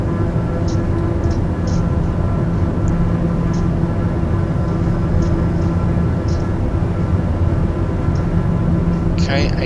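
Blacksquare TBM 850 turboprop in Microsoft Flight Simulator 2020 during its takeoff roll, a steady loud engine drone and rumble running throughout with faint clicks above it.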